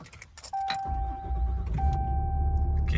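A 2020 Ram 2500 Big Horn 4x4 diesel pickup chimes twice as the ignition comes on, then its engine catches and settles into a deep, steady diesel rumble heard from inside the cab.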